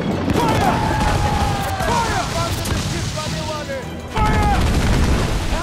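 Ship cannons boom and crackle in the Assassin's Creed Black Flag naval battle game, with a sustained barrage of loud blasts, a brief lull, then a fresh volley, while voices shout over the din.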